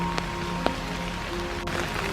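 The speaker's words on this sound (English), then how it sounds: "It's raining a little harder now" Steady rain patters on an open umbrella during a hike through a dark, foggy park, a dense even hiss with a few sharper drop ticks, close overhead and unbroken by talk.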